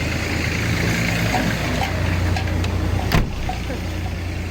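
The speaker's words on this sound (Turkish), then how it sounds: "Arabanın sesini duyduydu." A car engine runs steadily throughout, a continuous low rumble close by with a brief knock or door-like thump near the end and no talk.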